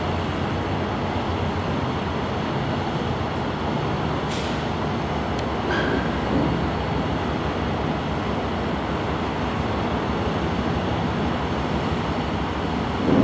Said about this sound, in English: that's a mainline engine, AC 4400 by the looks of it